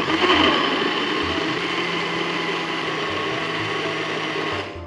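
A blender runs steadily at high speed, whirring through a chocolate banana smoothie made with zero-calorie sweetener, loud and continuous for about five seconds before cutting off.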